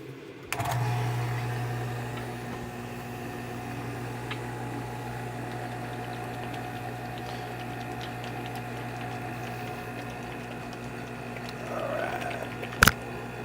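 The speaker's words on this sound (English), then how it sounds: "Into the vacuum chamber it goes." A vacuum chamber degasses swimbait mold material with a steady motorized pump hum that holds for about twelve seconds. A bubbling, crackling patch rises near the end, followed by one sharp click.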